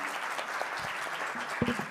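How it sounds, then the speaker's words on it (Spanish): Steady applause from a panel-discussion audience on urban mobility fills the whole stretch, dense and even, with a few louder claps near the end. "Ahora sí pueden aplaudir."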